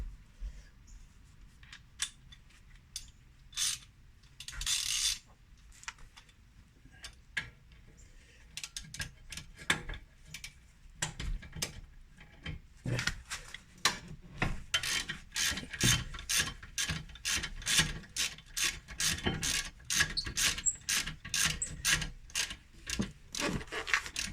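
A ratchet wrench with a 14 mm socket works the rear brake caliper bracket bolts on a 2017 Mazda 5. Sharp, close ratcheting clicks come in quick rhythmic bursts that grow faster and denser toward the end.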